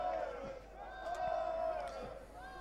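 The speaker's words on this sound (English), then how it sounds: "Nice to hear the crowd" Crowd at a rugby match between Cornish Pirates and Rotherham roars and shouts steadily, a broad sustained swell of voices with a few louder cheers rising over the top.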